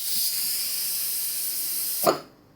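A pressure cooker on a gas stove whistles with a steady, loud hiss of escaping steam that cuts off sharply after a final burst.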